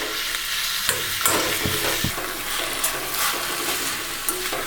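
Onions and tomatoes sauté in a pan for South Indian tomato chutney, giving a close, steady sizzle with intermittent scraping and clacking as the mixture is stirred.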